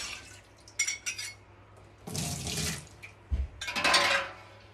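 Tap water splashes into a pot or sink in a home kitchen as whey is drained and replaced with water for making gouda cheese, arriving in several gushing bursts mixed with clinks of pans and utensils.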